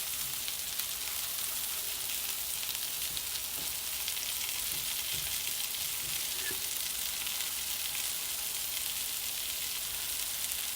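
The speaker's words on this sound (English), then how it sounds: "So I'm browning them all." Turkey meatballs browning in a pan give off a steady, even sizzle and crackle of frying that runs unbroken throughout, moderately loud and close, with a few faint scrapes and no voices.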